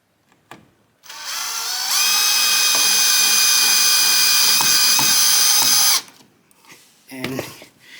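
A power drill whirs steadily for about five seconds while tightening screws during a house renovation electrical rough-in, revving up then stopping abruptly, with faint clicks and a brief voice afterward.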